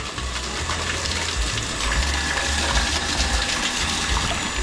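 Strong water gushes steadily from a pipe, a loud continuous rushing hiss with a low mechanical hum underneath, no voices.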